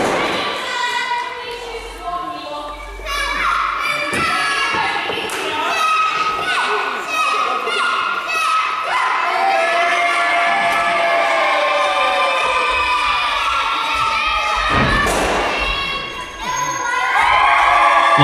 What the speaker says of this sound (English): Spark steps up and just gets a rousing ovation.